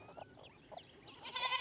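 Goats bleat faintly on a farm at an abandoned property, a few short calls at first, then a louder, wavering bleat close by at the end, with quiet rustling of the surroundings underneath.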